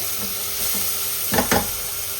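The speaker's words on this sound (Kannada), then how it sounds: "ಸೊ ಇವಾಗ ಕಸೂರಿ ಮೇಥಿ ಹಾಕ್ತಾ ಇದ್ದೀನಿ. ಸ್ವಲ್ಪ ಫ್ರೈ ಆಗ್ತಿದ್ದಾಗೆ" Kasuri methi (dried fenugreek leaves) frying in a pan for mushroom biryani, a steady close sizzle with a couple of sharp scraping stirs near the end, no talk.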